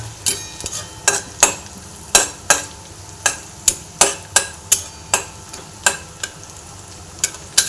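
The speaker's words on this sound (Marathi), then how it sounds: "आपण फक्त लसूण, मिरची आणि आलं याच्यावरती फ्राय करून त्याच्यावरती फोडणी घालणार आहोत." Garlic, chili and ginger fry in hot oil for a tempering with a steady sizzle, punctuated by sharp, irregular taps of a spoon against the pan, close and loud with no talking.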